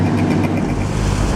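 Vintage Bugatti racing car in the Mille Miglia road race, its engine a steady loud roar held close through the whole brief moment, with no voices.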